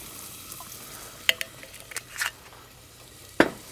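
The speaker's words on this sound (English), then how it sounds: "So as the shallots are starting to sweat, we're just going to stir it up a little bit." Shallots sweating in oil in a pan, stirred with a few scattered scraping clinks and soft sizzling, with a sharper clatter near the end.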